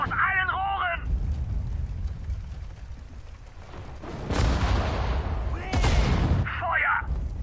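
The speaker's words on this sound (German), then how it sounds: "Feuert aus allen Rohren!" Artillery cannons firing in the World War II strategy game Sudden Strike 4: heavy booming blasts over a low battlefield rumble, with brief unit voice lines in German at the start and end.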